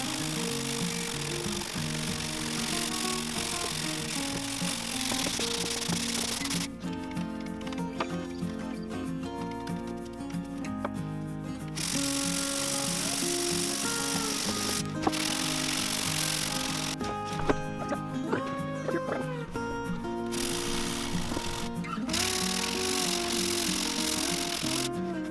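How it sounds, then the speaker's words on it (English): A power sander whirs in bursts, its motor cutting in and out several times as it grinds across a wooden surface. "I'm just going to keep sanding it down right up here."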